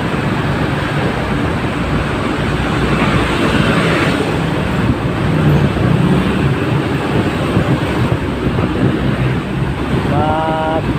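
Steady, heavy rumble of passing vehicles with constant wind buffeting the microphone, a dense continuous wash of traffic noise throughout.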